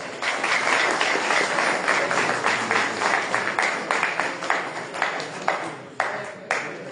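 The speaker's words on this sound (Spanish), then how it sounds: "le damos un fuerte voto de aplauso para él" An audience applauds a guest speaker, a civil engineer, at an academic expo: dense, fairly close clapping that thins out and trails into scattered final claps.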